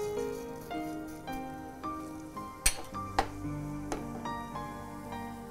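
Mustard seeds dropped into hot oil in a cooking pan crackle and pop in a series of sharp clicks and sizzles, with a few louder snaps standing out over a steady low hiss.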